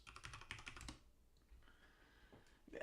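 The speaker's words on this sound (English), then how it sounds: "Don't you just love the typing sound?" Quick bursts of typing clatter on a computer keyboard, a rapid run of close, crisp key taps followed by a pause and a few more scattered keystrokes, quiet overall.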